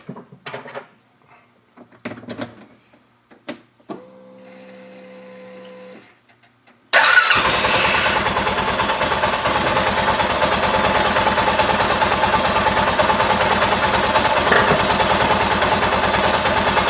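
An Arctic Cat Prowler UTV engine starts up after a few clicks and a brief whirring crank, then settles into a steady, loud, continuous idle close by.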